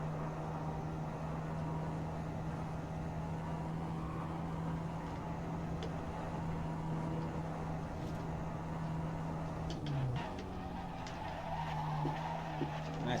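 Race car in a racing video game holding a steady engine drone, with a brief dip and squeal of tyres under braking midway, continuous and fairly loud; no talking.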